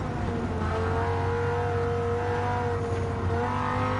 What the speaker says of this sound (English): Got to rev it up